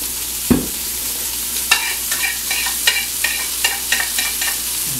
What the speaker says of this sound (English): First of all, let's add our mushrooms.